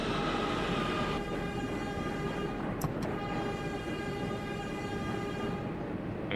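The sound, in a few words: train running in OpenBve train simulator game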